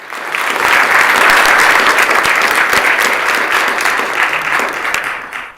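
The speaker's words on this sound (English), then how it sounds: "Round of applause for her." Applause rises quickly and holds as a steady, dense clapping from an assembly floor session, then fades toward the end.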